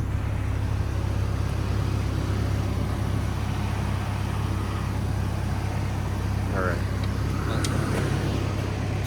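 A Chevy Colorado engine, just fitted with a new oxygen sensor, starts and runs with a steady, low rumble throughout, while people talk nearby.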